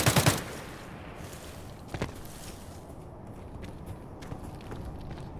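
A few faint distant gunshots crack sporadically in the video game Arena Breakout Infinite, a short burst at the start and scattered pops after, over a quiet background.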